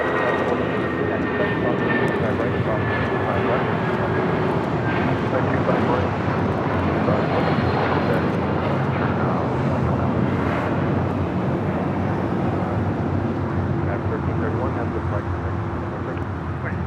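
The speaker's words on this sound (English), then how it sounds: "1331 taking off to Newark on a 757-200" A United Airlines Boeing 757-200 takes off from LAX bound for Newark, a steady, broad jet roar holding at constant strength throughout, with some talk in the background.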